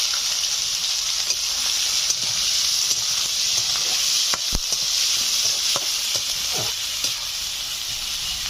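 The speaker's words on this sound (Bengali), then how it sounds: "এখন দিয়ে দিচ্ছি পেঁয়াজ।" Chopped onions, three large ones finely cut, sizzle in hot oil in a pan, a dense steady frying hiss with occasional soft stirring scrapes and pops, close and continuous, with no voices.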